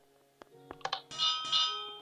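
In a Minecraft Granny mod, a few soft clicks, then a bright bell chime rings twice in quick succession, each tone lingering and fading.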